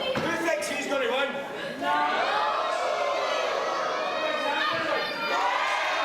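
A wrestling crowd cheers and shouts, many high voices, including children, yelling together in a loud, sustained wash of noise.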